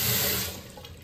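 Hot water gushes hard from a tap in a new house after a geyser was fitted, a loud rushing splash that eases off slightly partway through, heard alone.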